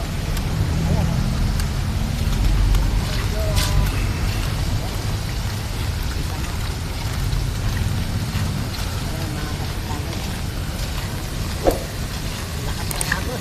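Flood water rushes hard under the Anonas Bridge, a loud, continuous low roar of churning current with one sharp knock near the end, while a voice talks over it.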